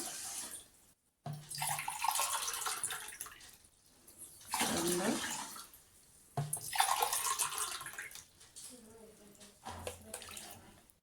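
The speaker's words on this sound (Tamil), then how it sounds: "ரெண்டரை டம்ளர் தண்ணி ஊற்றணும்" Water poured from a tumbler into a cooking pot while making venn pongal in a home kitchen, heard up close as several splashing pours separated by short pauses.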